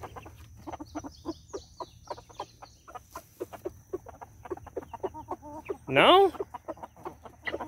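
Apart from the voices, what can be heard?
chickens clucking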